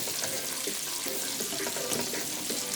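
Garlic and bacon frying in a pan for Jamaican-style steamed cabbage, a steady, even hiss of sizzling fat with light crackles throughout.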